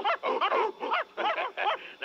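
A comedy sound effect of dogs barking, a rapid run of yapping, yelping barks in quick bursts, loud and close, with no talk over it.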